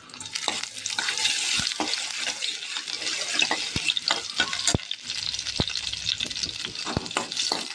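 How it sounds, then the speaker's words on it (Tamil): Green chillies sautéing in hot oil in a pan, with a steady close sizzle and frying hiss, stirred now and then with sharp scraping clicks, and no talk. "இப்போ நாம் கட் பண்ணி வச்ச பச்சை மிளகாவை சேர்த்துக்கலாங்க. இதை 1 நிமிஷம் நல்லா வதக்கிக்கலாம்."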